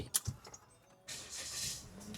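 A 2022 Toyota Veloz 1.5 Premium starts by push button: short clicks and thumps, then at about one second the engine catches with a broad, steady idle hum close by that continues to the end. No one speaks.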